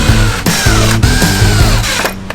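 Steady, loud mechanical whirring with a rhythmic pulsing from a cordless drill motor running continuously, cutting out briefly near the end as its battery runs flat.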